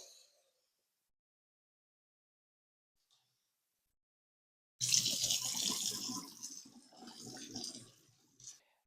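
Tap water runs over broccoli sprouts being rinsed in a sink, starting abruptly after a long near-silent stretch and splashing steadily up close for several seconds before cutting off.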